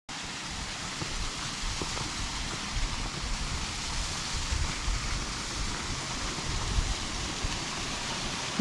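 Water pouring heavily off a rock after rain in Nangar National Park, New South Wales, a steady soft hiss of splashing and trickling that stays even and fairly faint.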